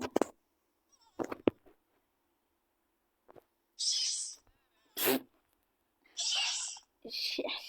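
A sneeze breaks out in a noisy classroom, a sharp sudden burst among scattered clatters, squeaky voices and short noisy outbursts, with quiet pauses between.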